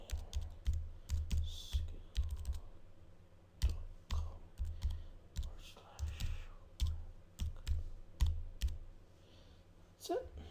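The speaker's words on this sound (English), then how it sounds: "and then I just type in the URL" Someone types a web address on a computer keyboard, with a steady patter of close key clicks and an occasional heavier keystroke. Low background noise runs underneath.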